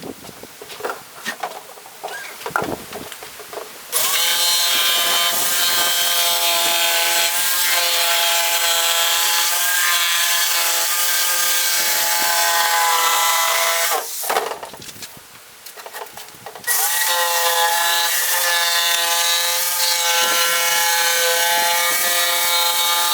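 Power saw cutting a wooden wall panel for a Ram Promaster van conversion: a loud, steady high whine as the blade bites, broken by a brief pause before the cut resumes, after some scraping and handling at the start.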